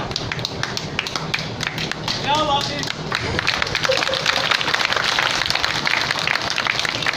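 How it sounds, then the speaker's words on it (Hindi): An audience at an Arya Samaj yajna ceremony claps in a steady, dense patter of many hands that swells and carries on throughout, while someone speaks over it. "अच्छा ताली बजाओ तो सारे बजाओ"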